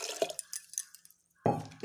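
Water poured into a pressure cooker holding rice and lentils for Bihari khichdi, a brief splashing burst early on, then quiet, then a louder pouring gush near the end, close and without talk.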